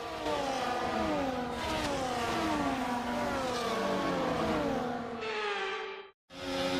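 F1 race cars from the game F1 24 lined up on the grid at the Brazil sprint, engines revving high and steadily in overlapping waves before cutting out abruptly near the end.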